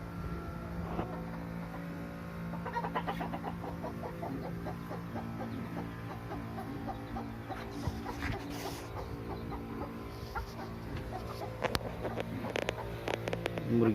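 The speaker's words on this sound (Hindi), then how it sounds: "मुर्गियाँ बंद कर रखी है इसके अंदर।" Chickens shut inside an enclosure cluck and murmur continuously, fairly faint and steady, against a constant low background hum, with no talking.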